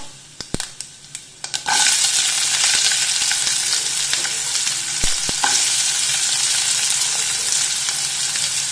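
A few sharp clinks and taps come first, then chopped onions hit the pan and burst into a loud, continuous sizzle. Light scraping runs under the hiss as they sauté.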